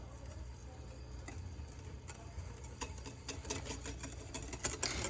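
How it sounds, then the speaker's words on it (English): Hollandaise sauce whisked by hand in a bowl, a quick, steady ticking patter of whisk strokes that grows louder and busier toward the end, over a low background hum. "And the more you whisk it, the more air that you're putting into it as well."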